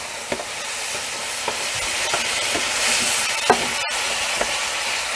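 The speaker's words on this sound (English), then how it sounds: "I'm adding 1/3 of the tomatoes, and I'm just scraping it to get those brown bits up" A utensil scrapes browned bits off a hot pan bottom after tomatoes go in, giving a steady sizzling hiss with scattered scraping knocks and one sharp clunk near the end, close up with no talking.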